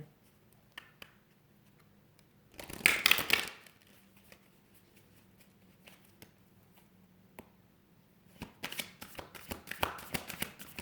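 Oracle cards are shuffled by hand in a quiet room, with one loud, dense riffle burst followed by scattered soft taps and then a longer stretch of crisp, repeated card flicks and slaps close to the listener.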